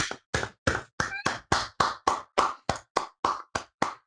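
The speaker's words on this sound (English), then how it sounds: "Clap it up." Hands clap in a steady rhythm, about fourteen sharp, close claps in quick succession with short silences between them, loud and isolated.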